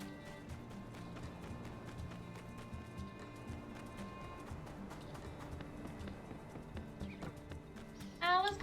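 Hooves clop steadily at a trot in the video game My Time at Sandrock, a close, rhythmic patter over soft background music, with a horse's whinny rising near the end.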